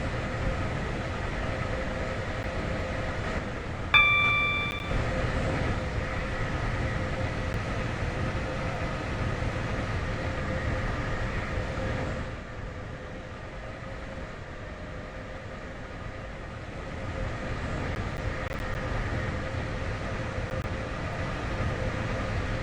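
A train runs steadily in the Roblox-style railway game Stepford County Railway, racing a Benton Express on the way to Llyn-By-The-Sea, a continuous near rumble and hiss with a brief tonal chime early on and a slight dip midway.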